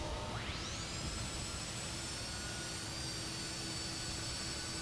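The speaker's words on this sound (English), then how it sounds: "We've got engine sounds, which is awesome." Fokker F28 jet engines in Microsoft Flight Simulator spooling up, a rising whine that settles into a steady loud turbine roar and hiss, continuous and close with no talk.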